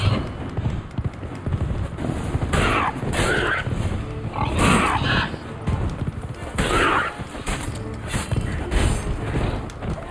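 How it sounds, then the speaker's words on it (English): Angry pigs in Witcher 3: Blood and Wine grunt and squeal in repeated bursts, close and fairly loud, over rustling movement and background game sound. "God, these are angry pigs."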